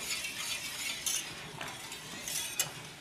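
A spoon works through thick cream sauce in a pan over high flame, giving soft scraping swirls with a few light clinks against the metal, close and quiet, no talking.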